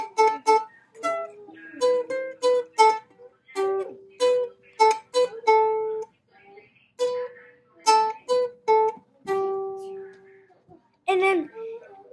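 A melody plucked on a ukulele, a series of bright, close single-note plucks and short phrases with brief pauses between them, played alone without talk.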